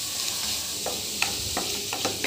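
Five or six garlic cloves frying in a pan, a continuous close sizzle broken by a few sharp scraping and stirring taps.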